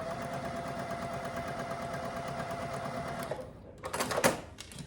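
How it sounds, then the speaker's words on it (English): A sewing machine stitches over a seam on a Tilda-style quilt, running with a fast, even mechanical chatter before briefly stopping, then giving a short burst of handling noise up close. "So I went back and made it just a little bit straighter, just sewed over it."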